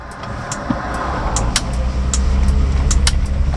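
Turn indicator of a 1970 Datsun Cedric Super Six ticking in an even rhythm inside the cabin, light clicks over steady engine and road noise while waiting in traffic.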